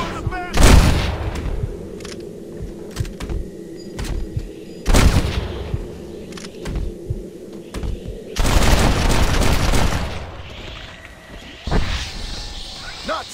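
Gunfire in a Red Dead Redemption shootout: loud, close booming shots in scattered bursts, with a longer sustained volley later and shouting voices mixed in.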